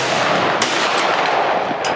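A volley of rifle fire at a Victorian rifleman shoot cracks out loud and sharp, several shots overlapping into a dense burst followed by rolling echo that fills the whole moment.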